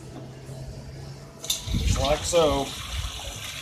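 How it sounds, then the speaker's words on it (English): Hot water poured from a pot over a beer bottle during home brewing, a short splashing gush that follows a quiet stretch, with someone talking over it. "Now let's pour this right in over top of this"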